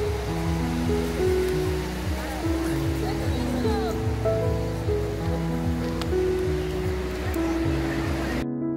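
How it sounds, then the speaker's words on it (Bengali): Sea waves break and wash up on the beach at Digha in a steady rushing surge. People talk and call out over the surf, which continues until a sudden cut at the end. "এই ঢেউটা হয়ে গেল।"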